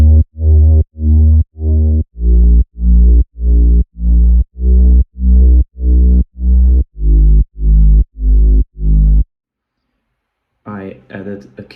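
Synthesized reese bass for a funk track, a deep buzzing tone played as a long run of evenly spaced, loud pulses that stop abruptly, followed after a pause by a short burst of busier sound.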